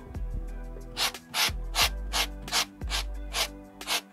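A brush is dragged through cotton macrame cord to fluff out the fibers, making a series of close, rhythmic scratchy strokes about twice per second, with no talking.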